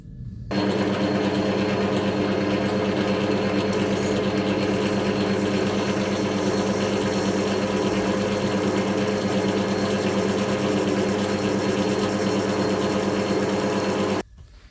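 A metal lathe turns down metal stock toward a one-inch diameter for threading. Its motor whirs steadily with a machining drone that starts abruptly and stops about fourteen seconds later, with no talk.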